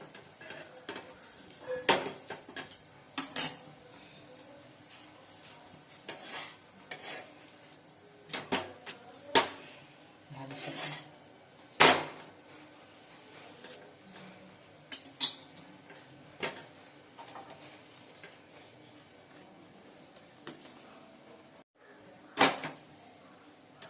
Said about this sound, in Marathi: तव्याचा ना आवाज येतो.